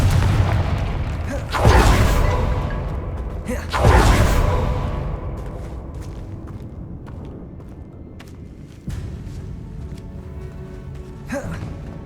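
In Hogwarts Legacy, the Confringo blasting spell bursts with two heavy booms a couple of seconds apart, each fading into a rumbling tail, followed by softer scattered thuds and movement.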